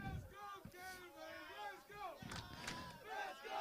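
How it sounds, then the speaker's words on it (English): High school soccer crowd chanting "Let's go Cavers" in a stadium during a playoff match, rhythmic massed voices rising and falling steadily, fairly distant and continuous. "Let's go, Cavers chants are ringing around the stadium"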